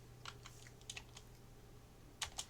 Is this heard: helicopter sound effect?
no